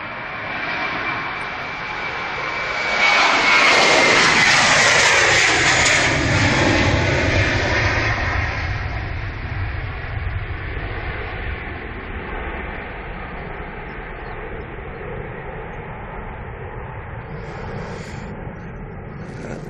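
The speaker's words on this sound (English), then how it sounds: "Turkish Airbus A321." A Turkish Airlines Airbus A321 jet roars past at Manchester Airport, its engine noise swelling loud and close, then fading slowly into a long, steady distant rumble.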